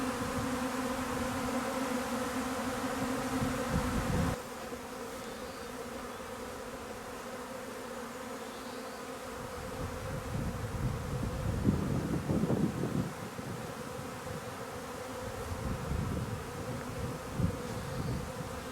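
A honeybee swarm buzzes continuously around the listener, a dense droning hum with a faint gusting wind noise behind it and no voices.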